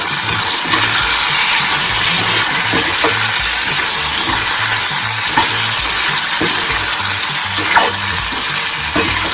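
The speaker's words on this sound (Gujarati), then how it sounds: "હવે તેને આપણે પાંચ મિનિટ સુધી રહેવા દેવાનું છે જેથી કરીને આપણા જે મૂળા છે તે એકદમ સંતળાઈ જાય" Radish and chillies for a Gujarati mula sambharo sauté in a pan, a loud, constant crackling sizzle close by with faint stirring knocks scattered through, no one speaking.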